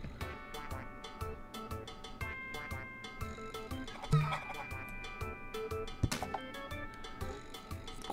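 Chicken clucking in the video game Angrymals, short repeated clucks and squawks mixed into busy game sound effects and music, fairly close and moderately loud.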